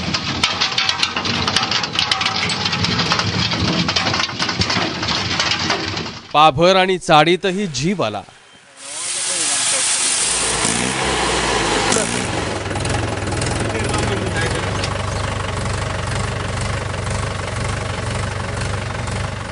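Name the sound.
tractor engine running during sowing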